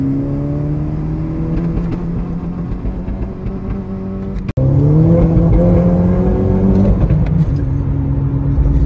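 A Volkswagen GTI engine held at wide open throttle around 5,000 RPM drones loud and close, its steady tone wavering and stuttering as it sputters and cuts out, with a brief break midway before the roar resumes, and no talk.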